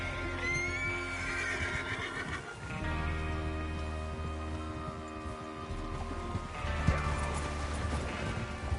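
Horses in the video game Red Dead Redemption 2 whinny loudly, over and over, above a constant layer of hooves clip-clopping and faint mechanical clatter.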